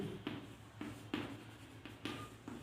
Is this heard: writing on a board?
yes